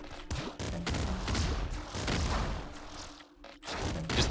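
Hyper rifle bursts in the video game Nuclear Throne, loud rapid volleys of synthetic gunfire that come in clusters with brief gaps and booming impacts, filling the clip without talk.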